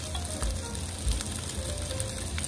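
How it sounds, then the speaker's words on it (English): Steady sizzling and crackling of eggs cooking in a waffle iron, close and continuous, with no voices. "you'll hear the sizzle"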